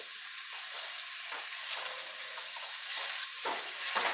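Garlic and onion frying in a pan give a steady, close sizzle with bright hissing and occasional louder spits and stirring scrapes.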